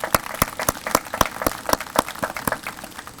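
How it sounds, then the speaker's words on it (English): A small outdoor audience claps at a groundbreaking ceremony for the Appalachian Aquatic Conservation Center, producing sparse, fairly close individual hand claps at a steady pace over a few seconds. "So let's give them a round of applause as well."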